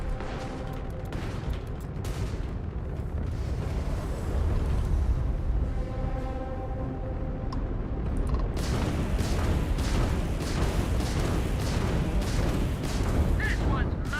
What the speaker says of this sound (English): This is the complaint. Opening fire!